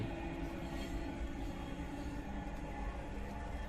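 A Dhaka metro rail train runs past with a steady low rumble and faint wheel hiss, continuous and even throughout, with no talking.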